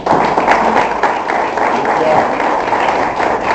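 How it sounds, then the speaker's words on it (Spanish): A church congregation applauds during a Spanish-language sermon, a steady, loud wash of clapping filling the room with voices mixed in. "Denle un aplauso al Señor, hermano."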